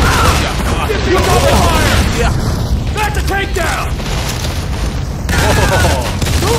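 Gunfire and booming explosions from the mobile shooter game Modern Combat 4: Zero Hour form a dense, loud, continuous wall of sound, with voices calling out over the action.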